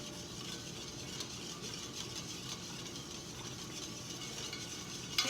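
Oil is whisked into a scratch-made lemon vinaigrette dressing, giving a steady, fast whirring and clicking churn that runs without pause, close and even in level, with no voices over it.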